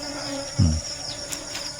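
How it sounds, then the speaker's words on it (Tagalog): Bees buzz around dragon fruit flowers on a farm where flowers are being hand pollinated, a steady insect drone close by over constant outdoor background noise, with one brief low thump. "Yan po, may mga bubuyog siya oh."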